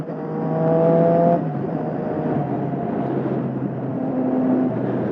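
Engine and exhaust of a Triumph Street Triple 675 motorcycle while riding: a steady, droning roar with a rising note that shifts pitch partway through, then holds at an even cruise under wind noise.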